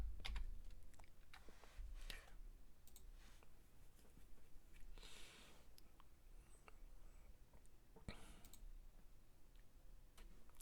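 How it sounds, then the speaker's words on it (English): Light typing on a computer keyboard, faint irregular key clicks in small clusters over a steady low background hum, with no talk. "let me just type this in"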